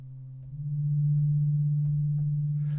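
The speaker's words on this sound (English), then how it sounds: "So right now I have 2 sine waves doing the same thing." Two sine waves tuned alike on an analog synthesizer, a steady low pure hum that swells in loudness during the first second and then holds, with faint clicks near the end.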